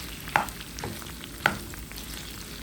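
Pieces of beef fry in hot oil in a pan, a steady close sizzle broken by two sharp metallic spatula scrapes as the meat is stirred.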